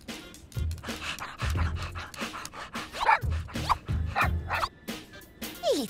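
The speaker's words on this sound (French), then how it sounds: "petit toutou." A small cartoon dog from the French animated series Squish barks, yips and pants in short, lively bursts with an uneven rhythm, heard up close and fairly loud.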